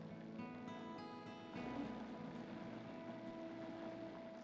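Kitchen blender mixing crepe batter with flour, a motor whir with steady tonal hum that steps up in speed partway through and runs on fairly loud and close.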